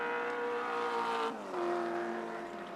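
V8 touring car racing past at Wanneroo Raceway in 1983, one loud engine note holding steady then dropping and rising again through a gear change, close and alone.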